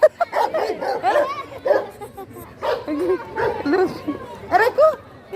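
A big dog barks and yips several times in a busy public place, with people talking over and between the barks.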